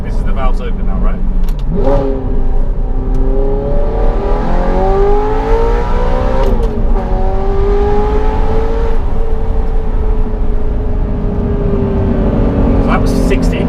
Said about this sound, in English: This is the valves open now, right?